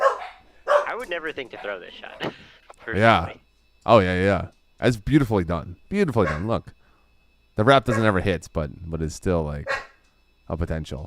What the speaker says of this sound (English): Sorry about the dogs in the back.